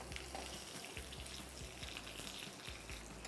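Curry leaves and mustard seeds sizzle and crackle in hot oil in a pan, giving a dense, steady frying hiss with scattered small pops, close and unbroken, with no talking.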